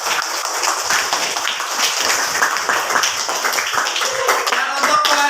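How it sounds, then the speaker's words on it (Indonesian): A classroom group claps together after students present their discussion results, a steady dense patter of many hands at close range throughout. "Tepuk tangan untuk kalian semuanya."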